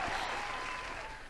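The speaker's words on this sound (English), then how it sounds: "another round of applause for Ashes in the Hourglass" A short round of applause from a small live-stream audience, steady clapping that fades slightly toward the end, heard on its own without talk.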